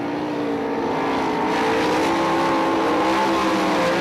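Several ASCS sprint cars roar around the dirt oval at Crystal Motor Speedway during a heat race, a loud, continuous engine drone with shifting pitches as cars pass, steady throughout with no talk.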